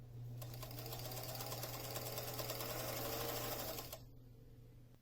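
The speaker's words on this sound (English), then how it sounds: "Back stitch on the other side and keep going, and stitch all the way around." A sewing machine stitches around the edge of a fabric instrument mask bag for a saxophone or bass clarinet, running as a fast steady mechanical whir close by for about three and a half seconds before stopping.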